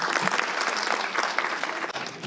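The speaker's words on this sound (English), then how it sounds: "Let's give a warm round of applause for Donovan." An audience at a literary competition reception applauds a presenter with a steady burst of many hands clapping, full and continuous for the whole couple of seconds.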